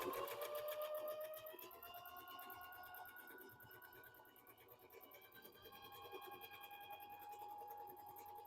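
A Bernina sewing machine stitching zigzag squares, a rapid even mechanical clatter that runs throughout at low volume, softening briefly in the middle before picking back up.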